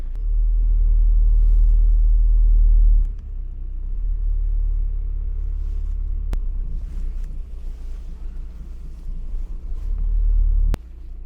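A cheap VW Transporter van on its first drive, its engine a loud steady low rumble with road and wind noise, the tone shifting after a few seconds as it pulls away, with two sharp clicks along the way.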